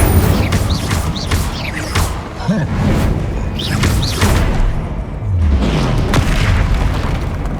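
Incendio fire spells cast in Hogwarts Legacy combat: loud, dense bursts of booming blasts and whooshing magical effects follow one another without pause, with a few swooping tones rising over the rumble.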